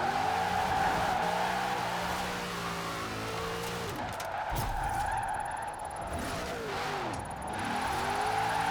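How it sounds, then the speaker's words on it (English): Video game car in Forza Horizon 4 on a wheelspin drift build, engine droning steadily with rising and falling revs as the rear tyres spin and slide, a constant loud mechanical roar with brief squeals throughout. "It's so easy to spin those rear wheels though. And then just sliding this thing."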